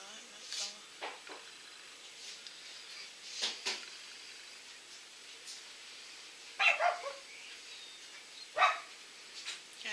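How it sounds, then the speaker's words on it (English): A dog barks in scattered short bursts and yips, some loud and close, across a quiet indoor background. "the dog's decided to join in with the mower next door"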